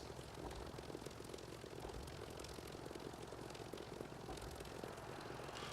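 Aircraft engine of a plane coming in to land in a flight combat video game, a steady, fairly faint propeller drone that holds without a break.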